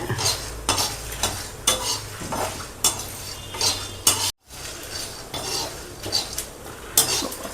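A metal spoon scrapes and clatters rhythmically against a pan as spices are dry-roasted for a brinjal gosthu, loud close strokes every second or so over a faint crackle, with one brief dropout midway.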